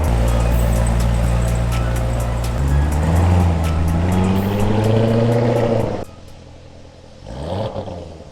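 A 2019 Corvette Z06 V8 fitted with a cold air intake idles loud and close, then revs up in a rising, sweeping roar before cutting off, followed by a brief quieter rev.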